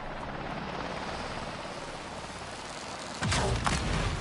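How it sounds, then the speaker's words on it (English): Helicopters in the video game Avatar Frontiers of Pandora make a distant, steady rotor drone, and a sharper burst of mechanical noise cuts in near the end. "I can hear helicopters."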